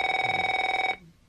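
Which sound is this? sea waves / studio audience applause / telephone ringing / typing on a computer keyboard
telephone ringing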